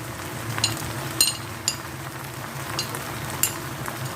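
Okra frying with turmeric and crushed chilli keeps up a steady sizzle while a spoon stirs through it, with a few sharp clinks against the pan and no talking.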